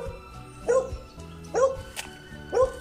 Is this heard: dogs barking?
yes